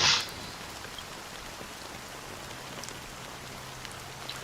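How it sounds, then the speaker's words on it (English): Steady rain pours down in a video game, a dense even hiss of drops on surfaces from start to finish, with a brief louder burst at the very beginning and no voices over it. "So, how long has this rain been going on for?"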